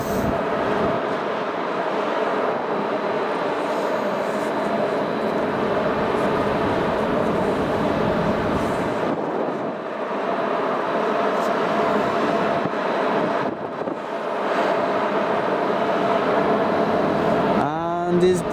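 A departing airliner at Manchester Airport taxis onto the runway, its jet engines giving a steady, broad rumble that holds for the whole stretch and swells briefly near the end.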